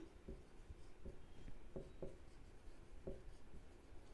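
Marker or chalk writes math on a board in a few short, soft taps and strokes, faint and close, with spaces between marks.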